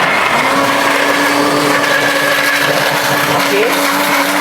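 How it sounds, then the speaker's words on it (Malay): A blender grinds dried chilies, whirring loudly and steadily without pause, its motor pitch wavering slightly throughout. "blend sekali dengan cili kering"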